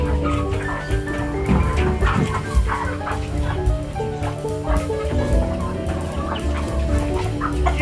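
A flock of local chickens on a poultry farm in Nepal, with many roosters among them, clucks and calls without pause. The overlapping, busy chatter is close and fairly loud, and no voices are heard.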